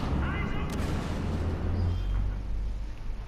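Continuous dense rumbling gunfire and blasts fill a Star Wars Battlefront video game battle, loud and unbroken throughout.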